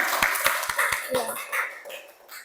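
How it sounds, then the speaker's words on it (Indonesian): Classmates in a school classroom clap for a group in a short run of sharp, evenly spaced claps that soon blur into a busier patter, with voices talking over and after it. "Berikan tepuk tangan dulu untuk teman-temannya."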